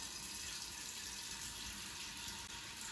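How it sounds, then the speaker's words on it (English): Water from a kitchen tap runs into a pot being filled for boiling, a steady, fairly soft rushing stream that holds unchanged throughout with no voices. "put a pot of water on to boil. So I'm going to fill it up."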